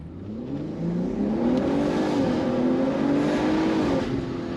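Built BMW G80 M3 accelerating hard from low speed, a loud engine note climbing steadily in pitch through the rev range, heard from inside the car without talk.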